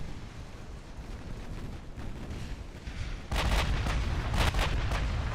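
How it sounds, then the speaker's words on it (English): Warship main guns fire in a naval battle game, deep booming blasts rolling over a low rumble, growing heavier and louder in the second half with several close, powerful shots. "Huge hits with the main guns"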